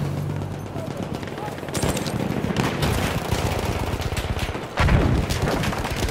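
Rapid machine gun fire in the video game Battlefield 1, a dense sustained burst with sharp louder shots near the end.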